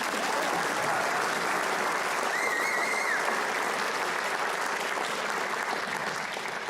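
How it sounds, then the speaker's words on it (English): Sustained applause from a large audience fills a high school awards and commencement ceremony, a dense, steady wash of clapping that holds evenly from start to finish. "Can we get one more round of applause for all of you?"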